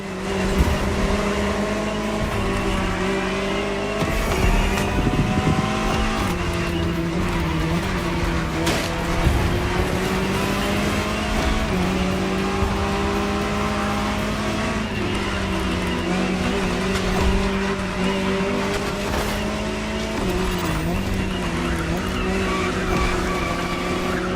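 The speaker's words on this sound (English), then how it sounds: "Jaguar CX-75 concept" Jaguar CX-75 concept car in the racing game The Crew Motorfest, its engine droning with steady, rising and falling harmonic tones, mixed with tire squeal and skidding over continuous loud driving noise.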